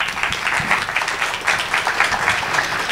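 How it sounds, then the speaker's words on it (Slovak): Audience applause after a presentation at a cycling-cities conference, a steady, fairly loud wash of many hands clapping for a few seconds with no speech over it. "Celkom slušný potlesk."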